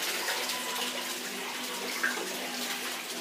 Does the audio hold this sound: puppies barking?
no